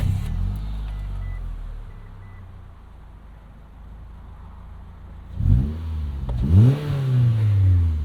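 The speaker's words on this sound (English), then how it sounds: "Can hear that exhaust leak there." A 2008 Mitsubishi Eclipse Spyder convertible with an exhaust leak starts and idles, its engine rumbling low and steady, then revs twice in quick swells before settling into a rough, close idle.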